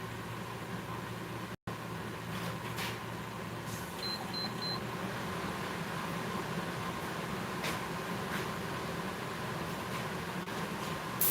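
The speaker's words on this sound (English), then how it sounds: "I gotta turn on my air scrubber." An air scrubber runs in a workshop with a steady, fairly quiet fan-like whoosh and hum throughout, broken only by a momentary dropout near the start and a few faint beeps.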